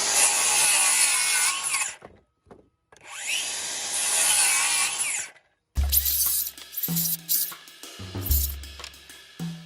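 A power saw cutting a wooden form board for a house build, two long loud rasping cuts separated by a short silence, followed by clattering knocks and scraping of wood being handled.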